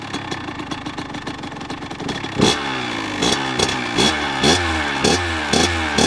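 A dirt bike engine idling unevenly and then revving in repeated sharp bursts, loud and close, each rise followed by a falling whine back toward idle.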